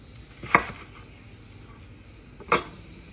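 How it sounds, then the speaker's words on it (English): A knife cuts onion rings in half on a board, giving two sharp, separate chops about two seconds apart against a quiet kitchen background. "I'm just gonna chop those rings in half and make like little onion half moon rings"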